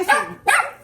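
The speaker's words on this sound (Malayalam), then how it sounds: "വിരളി പിടിച്ച 2 പട്ടികളാ." Two agitated dogs let out two sharp, close barks in quick succession, loud and alone.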